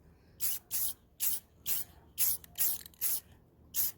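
Sealer sprays onto a glitter-coated tumbler cup in eight short, evenly spaced hissing spurts, close and fairly quiet, with silence between bursts.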